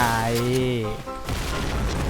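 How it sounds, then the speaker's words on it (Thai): A grenade goes off in the Point Blank shooter game, a burst of loud, sustained blast noise in the second half that follows a tonal voice-like sound near the start. "ปาระเบิดไปอีกลูกนึง"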